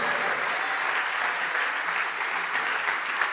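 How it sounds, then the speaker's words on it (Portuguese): An audience applauds in a church, with dense, steady clapping that stays at an even, fairly loud level throughout. "Vamos aplaudir ao nome de Jesus."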